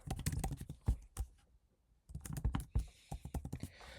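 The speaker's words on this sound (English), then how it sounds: "So I'm going to type the root password" Root password being typed on a Mac keyboard: a quick run of close, crisp key clicks, a brief pause of about a second, then another burst of rapid keystrokes with faint background noise.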